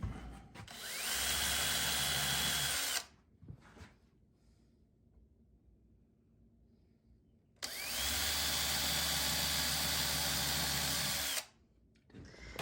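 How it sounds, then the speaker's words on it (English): A power drill pre-drills wood, whirring loudly in two long bursts of about three seconds each, with a quieter pause between them and a rising whine as each burst spins up. "We're going to pre-drill."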